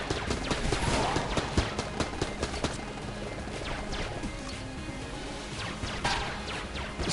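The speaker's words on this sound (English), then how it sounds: "So that explosion that I did just there was using a blank." In the video game Enter the Gungeon, a blank detonates to clear bullets. It comes through as a loud burst among rapid gunfire and crashing impacts, with repeated sharp shots throughout.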